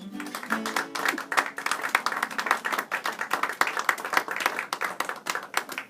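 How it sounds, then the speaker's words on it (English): A circus audience claps and applauds steadily, dense and sustained, with a few brief musical tones at the start. "A big round of applause for the ship's doctor, Doc Watley!"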